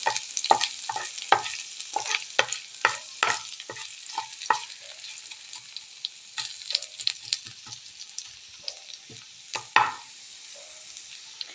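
Ginger is sautéed in a pan, and a bright sizzle is broken by frequent sharp scrapes and clacks of a spoon stirring close by. The scraping comes in quick bursts with short pauses, and there is no talk.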